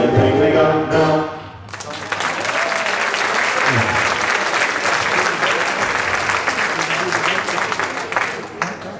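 A jazz festival crowd applauds a Queen City jazz band's gospel set. A brief musical tail rings out first, then loud, steady clapping sweeps in and holds, fading slightly at the end.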